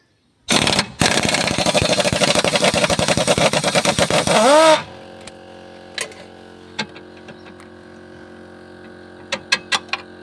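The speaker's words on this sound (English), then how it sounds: "So we're just going to use the rattle gun and undo them." A pneumatic rattle gun undoes lower control arm bolts, giving one loud, sustained, close-up burst of rapid hammering. It then stops abruptly, and a few faint clicks and taps follow.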